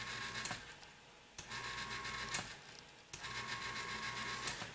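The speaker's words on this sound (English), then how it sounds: "At the same time, you might hear the auger motor." The auger motor of a Breckwell pellet stove runs as a steady mechanical whir, with short louder bursts repeating every second or two. It is close and alone, with no voices.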